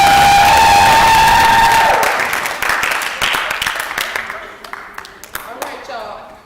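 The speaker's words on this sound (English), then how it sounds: "a little clap" A gospel program audience at a praise dance gives brief scattered clapping and cheering after a sustained tone fades, with voices mixed in and individual claps standing out as the sound thins.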